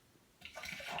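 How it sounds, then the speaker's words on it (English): Water sloshing and swirling around inside a pot while rinsing out leftover honey sugars for mead making, a soft liquid rush that rises midway and builds close up. "Now we'll take some water and put it in our pot and swirl it around"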